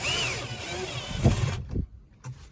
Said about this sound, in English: Get it tightened up via the drill.